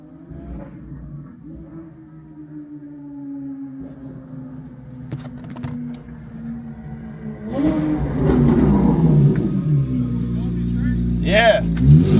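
A Chevrolet Corvette C8 Z06 with straight-piped exhaust idles with a deep, steady drone, then swells into louder rising revs near the end, with people talking over the engine.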